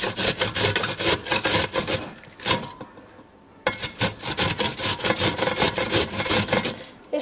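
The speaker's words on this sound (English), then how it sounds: "Finished grating our cabbage, and this is what it looks like." Cabbage being grated by hand for a science fair project, a fast rhythmic scraping rasp in steady strokes, close and fairly loud, with a short pause in the middle before the grating resumes.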